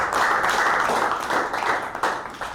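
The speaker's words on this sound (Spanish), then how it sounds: "Vamos a recibirlo con un aplauso." An audience at a school talk applauds to welcome the speaker, a dense, continuous burst of clapping that stays loud and even throughout, with no voices on top.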